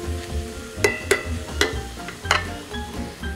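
Pulled beef being stirred with salt and pepper in a hot pan, a steady sizzle beneath several sharp scraping clicks from the utensil against the pan, close and moderately loud.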